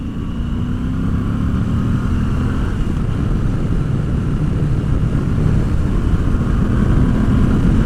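A Moto Guzzi V85TT motorcycle pulls hard in third gear on a freeway, its engine a loud, steady drone under rushing wind noise for several seconds without a break.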